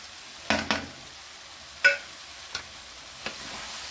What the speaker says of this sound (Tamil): 4 தக்காளி சேர்த்து வணக்க போகிறோம்.